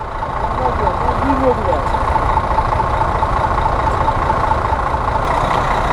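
A foreign-plated bus idles in Sirkeci, Istanbul, a loud steady low rumble that fills the street noise. A voice is heard over it.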